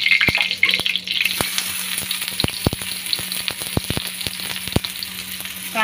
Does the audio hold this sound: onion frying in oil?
yes